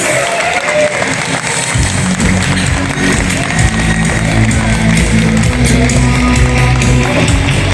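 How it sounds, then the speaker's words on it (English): Loud crowd applause and cheering at a live award ceremony, clapping filling the room throughout while a steady band-like musical backing plays underneath. "I want your loudest cheer, ladies and gentlemen"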